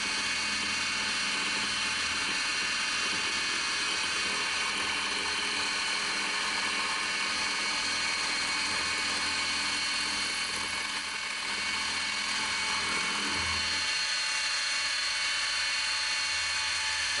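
A milling machine takes a light final cut of a few thousandths on a bushing for a 3/32-inch keyway broach, producing a steady close mechanical whine and hum with a brief change in tone near the end.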